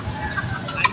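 Chicken clucking at a busy traditional market in Simeulue, short soft clucks blended into constant crowd murmur, with one brief sharper call near the end.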